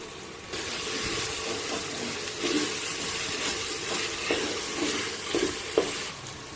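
Ginger garlic paste frying with chopped tomato in a pan for chicken gongura, a steady hiss of sizzling with occasional scraping stirs and small clatters, moderately loud and without voices.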